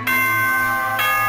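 A two-tone ding-dong chime from the video game Danganronpa rings twice, bright and sustained with long ringing tones, loud and clear with no voices over it.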